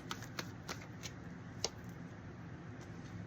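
Tarot cards are shuffled in quick, soft riffling bursts, a series of light papery flicks and taps close up in a quiet room with no talking.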